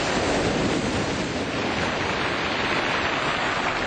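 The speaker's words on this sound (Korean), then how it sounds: "세상 그 어떤 음악보다 감미로운 파도 소리가 있는 바투미" Waves wash over a pebble beach on the Black Sea shore at Batumi in a loud, continuous roar of surf and churning water, with some wind noise and no voices.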